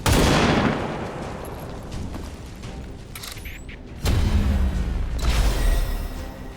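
Heavy bursts of gunfire from Space Marines in XCOM 2, loud booming shots with mechanical clatter and a second powerful volley partway through, no talk.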